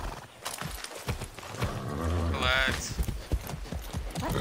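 Horse hooves clip-clopping at a quick gallop in the video game Far Cry 6, a steady rhythmic beat under game sounds and a person talking.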